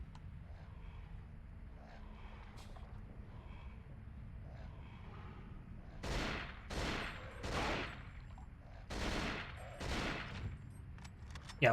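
AK rifle gunfire in the survival horror game Cold Fear: several loud, sharp bursts in quick succession over a low rumbling background, with a final sharp crack at the end.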